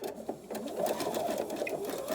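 Sewing machine running steadily and close up, stitching lines of zigzag along the panel of a six-panel welding cap, a continuous even whirr with fast rhythmic needle chatter throughout.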